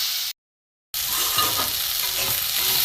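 Drumstick stems and flowers with turmeric fry in a pan, a loud, even sizzle with stirring. A brief silent gap falls early on before the sizzle resumes.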